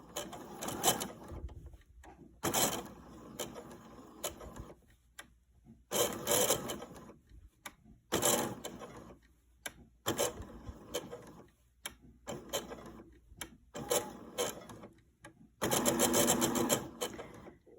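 A sewing machine stitches fabric for a chicken grocery bag holder in quick bursts, stopping and restarting about every second or two, with short pauses between runs close by.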